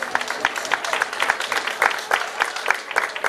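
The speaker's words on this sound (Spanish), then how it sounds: "que cómo no también les vamos a dar un fuerte aplauso, que se oiga" An outdoor crowd at the Juncal de Tejeda romería festival applauds steadily, a dense patter of many hands with a few sharper claps standing out, held at an even level throughout.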